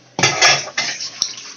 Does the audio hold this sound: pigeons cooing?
no